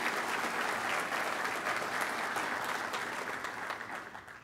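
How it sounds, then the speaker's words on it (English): A luncheon audience gives a sustained round of applause at an annual awards event, a broad wash of clapping from a room full of people that gradually thins and fades toward the end. "Give him a round of applause."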